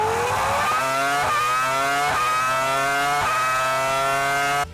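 A Formula 1 car's V10 engine screams at high revs, its pitch climbing steadily through several quick upshifts with brief dips between gears, loud and close throughout before cutting off abruptly at the end.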